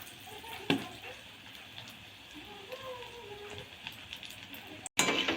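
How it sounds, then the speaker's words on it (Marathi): Banana flower pakoda batter goes into hot oil and sizzles, a steady close crackle and hiss with occasional pops and a clatter near the end. "आता आपण गॅस कमी करूया आणि एक तळून बघू तेल किती तपलेलं आहे म्हणून."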